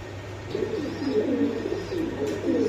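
Damascene pigeons coo in a steady, rolling run of low throaty calls, fairly close and continuous, with a faint hum beneath.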